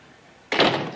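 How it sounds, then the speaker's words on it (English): A door is shut indoors in a single sharp, fairly loud thud after a quiet room, with no talking. "Hey, close the door, will you?"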